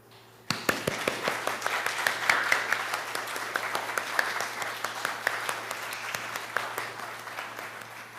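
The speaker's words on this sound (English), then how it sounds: "Could all of the RE volunteers who are here today just please stand up for a moment so that we can give you a round of applause?" A church congregation at a Unitarian Universalist Sunday service breaks into applause for standing religious education volunteers, a sudden burst of many hands that stays steady and full, heard from a short distance, then slowly tapers.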